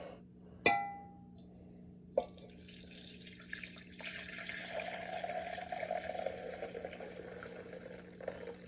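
Giant bubble solution pours into a gallon jug, a steady liquid trickle that sets in after a sharp clink and a second knock and then runs on quietly and fairly close.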